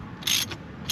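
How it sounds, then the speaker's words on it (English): A ratchet threading Bosch spark plugs into a Toyota 22R engine gives two quick, close metallic clicking bursts in a short moment. "So we're gonna go ahead, thread these in and try them out."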